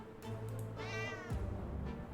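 A cartoonish cat meows in a video game, a rising drawn-out mew with bright harmonics over a steady low game-music drone, followed by a softer thump.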